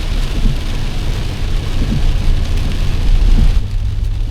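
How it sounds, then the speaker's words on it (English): Heavy rain pours down steadily at a campsite with a trailer, a dense loud wash with low rumbling that fits distant thunder, continuous throughout. "Yeah, I'm seeing lightning and heavy rain."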